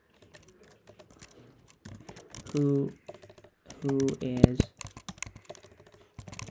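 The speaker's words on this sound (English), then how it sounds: "something's wrong with my typing today" Computer keyboard typing in a coding session, with quick clicking keystrokes through most of the stretch and brief bursts of a man's speech over them.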